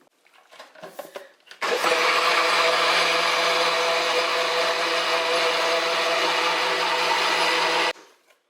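A bullet blender whirs loudly and steadily for about six seconds as it blends bulletproof keto coffee, following a few short clicks and knocks of the lid being fitted.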